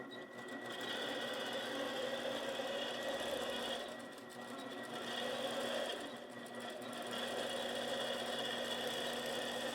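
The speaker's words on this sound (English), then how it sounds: "Quilt Path will move to the start and take the number of tie-off stitches you had selected in the settings" APQS longarm quilting machine running steadily as it stitches tie-off stitches, a continuous mechanical whir with a rapid rhythmic hum, close and fairly loud, with two brief dips in intensity.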